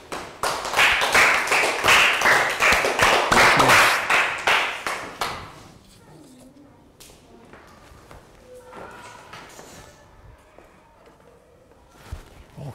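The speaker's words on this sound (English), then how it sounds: "Big rounds of applause." Children in a primary classroom clap together in a loud, rhythmic burst of about a dozen unison claps. It fades after five seconds into quiet room sounds, scattered taps and a light thump.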